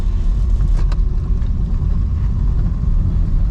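A car drives along a steep, narrow road in second gear, its engine a steady, close, low rumble inside the cabin. No one speaks and the drone continues without change.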